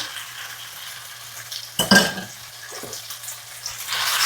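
Beef strips with ginger stir-fried in a hot pan, a steady sizzle with a sharp burst of scraping and clatter as the meat is added and spread out, then settling back into continuous frying.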